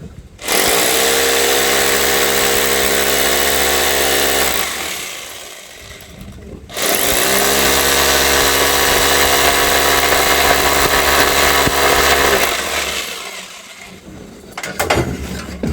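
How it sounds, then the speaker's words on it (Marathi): A power drill runs at a construction work site in two long, loud bursts of several seconds each, with a steady whining drone and a short pause between them. "आता मारूया आपण ड्रिल."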